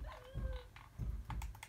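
Minecraft dog sounds, short yips and whimpers, mix with brisk clicking of computer keyboard keys at close range, all fairly quiet and choppy over under two seconds.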